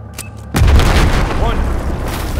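A loud, close blast from the game Battlefield 4 bursts in after a quiet lead-in of faint clicks, followed by a sustained rumbling roar and debris hiss that slowly fades.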